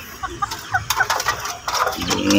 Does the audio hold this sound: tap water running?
no